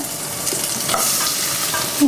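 Pre-fried spice mix for an olive pickle is stirred in a hot pan, giving a close, steady sizzle with soft scraping strokes and a slight rise in the middle, no speech.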